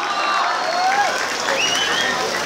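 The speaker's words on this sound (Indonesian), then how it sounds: "Tepuk tangan untuk mafia kami." Crowd applause and cheering at an outdoor Indonesian sholawat gathering in heavy rain, a dense continuous wash of clapping with raised voices and whistle-like tones mixed in.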